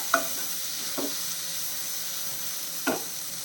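Tomatoes for a prawn roast sautéing in a pan, a soft steady sizzle broken by three quick spoon scrapes against the metal, close and fairly quiet, with no voices.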